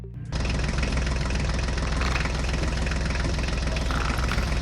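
Toy John Deere and Ford tractors start up with a sudden switch-on, then hold a steady, buzzing, engine-like drone with a faint knocking pulse and no talking.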